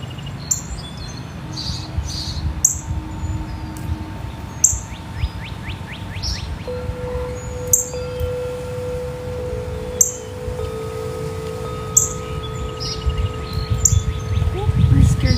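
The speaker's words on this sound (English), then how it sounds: "And birds flying over there." Songbirds, a cardinal among them, chirp and whistle outdoors in repeated short calls at moderate distance over a low rumbling background, with insects faintly buzzing and a few soft sounds of people nearby.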